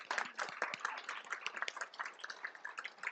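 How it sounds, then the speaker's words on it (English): An audience at a farmers' union panel session applauds the panelists: soft, dense patter of many hands clapping at once, steady and fairly faint throughout. "So please, a round of applause for all of our panelists today."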